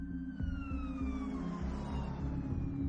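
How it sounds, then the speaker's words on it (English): A distant ambulance siren wails steadily under a low rumbling background, faint and continuous throughout. "the ambulance was actually already on its way"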